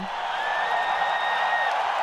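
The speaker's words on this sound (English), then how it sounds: "So I have cheering." A cheering crowd sound effect plays from a mixer in a home setup, a steady wash of distant crowd roar with a thin whistle-like tone sustained through it, no clear talk on top.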